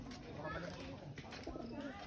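Pigeons coo softly at a monastery grounds, low rolling calls mixed under people talking nearby.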